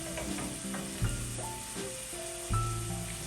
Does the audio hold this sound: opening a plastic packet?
no